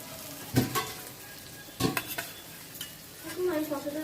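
A metal spatula stirs frying potatoes and spices in a pan, with two loud scraping strokes and a later burst of stirring over a low, constant sizzle.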